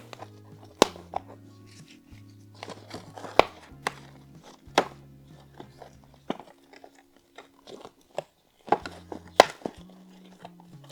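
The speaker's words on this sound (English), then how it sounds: "I like that snapping sound." Sharp plastic snaps from a plant trellis being put together at an indoor houseplant repotting, several crisp clicks scattered irregularly among quieter handling and rustling, close and fairly loud, with no talking.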